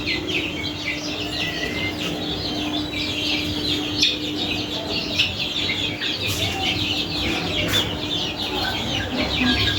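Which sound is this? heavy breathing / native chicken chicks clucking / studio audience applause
native chicken chicks clucking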